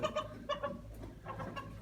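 Two chickens and two roosters cluck in short bursts, with a rooster call among them, close by and fairly quiet.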